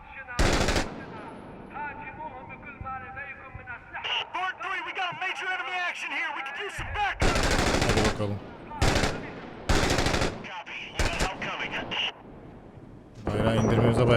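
Machine gun fire in the combat video game Six Days in Fallujah, with loud bursts of automatic shots near ruins. Between the volleys, voices and radio chatter carry on.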